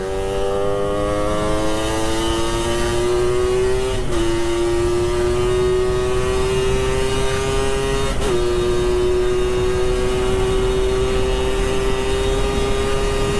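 A Yamaha RX King two-stroke motorcycle engine holds a loud, steady high-pitched whine at speed on a quiet night road, with two brief gear-change dips before it climbs again.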